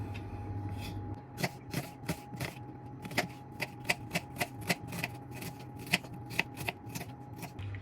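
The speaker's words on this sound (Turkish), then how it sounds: "Şimdi soğanımızı doğrayalım." A knife chops an onion on a cutting board in a home kitchen, about twenty quick, sharp close taps in an uneven rhythm over a low background hum.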